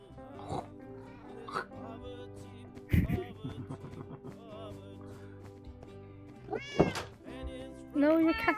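A Minecraft cat meows several times at irregular intervals, with a couple of short dull thunks, the meows growing louder and more insistent toward the end.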